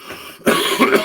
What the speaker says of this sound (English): I'm going to clear my throat and that got me.